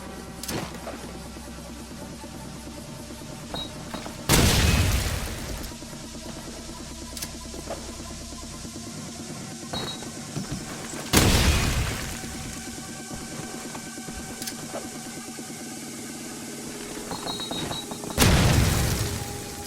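Three heavy grenade blasts go off in Call of Duty 4 ProMod, each a sudden loud boom with a rumbling tail, spaced about seven seconds apart over steady game ambience and small clicks.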